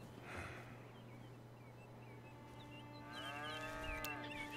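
A cow moos on a ranch in Red Dead Redemption 2: two low, drawn-out calls, the second longer and fuller, heard fairly close over a quiet outdoor hum.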